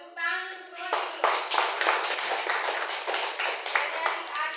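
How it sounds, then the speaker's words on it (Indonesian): Students in a Grade 7 social studies class at a junior high school break into a burst of quick, scattered hand clapping that starts about a second in and keeps going at a steady, dense pace, with a voice heard briefly before it. "Tepuk tangan untuk Roni dulu."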